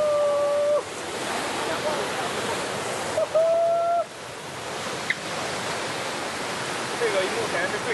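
A roaring waterfall at Wulong Three Natural Bridges in Chongqing pours out a loud, steady, dense rush of broadband noise for the whole stretch, with faint tonal sounds and brief knocks sitting on top.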